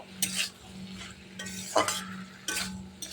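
Spatula stirring shrimp with pui greens in a hot pan, three or four brisk scraping strokes over a soft steady sizzle, close and fairly quiet, with no talking.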